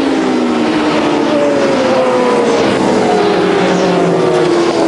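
A factory Honda endurance racing motorcycle at the 1996 Bol d'Or 24-hour race pulls out of the pits, its engine screaming loud and close with a rising then steady whine.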